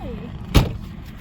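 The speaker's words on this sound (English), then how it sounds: "Look at those fireworks." A single sharp firework burst at night over the Glamis dunes, a loud boom with a brief tail, heard at a distance over low background rumble.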